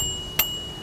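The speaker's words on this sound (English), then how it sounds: "could you press on the bell to see if it's working?" One brief, light ding from a YouBike bicycle bell, heard alone against steady outdoor hum.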